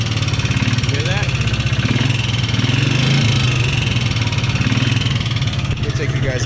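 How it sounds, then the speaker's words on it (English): An idling Polaris Sportsman 300 ATV engine chugs steadily up close with a rapid, even ticking from a valve tap, while a person talks over it. "I think it's a valve tap. It really sounds like it to me."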